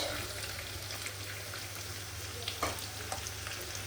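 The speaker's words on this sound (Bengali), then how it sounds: "পেঁয়াজটা এবার ভাজা ভাজা হোক ভালো মতন" Onions fry in hot oil with a steady, close sizzle and occasional stirring scrapes, as cumin cooks alongside for a katla fish dish.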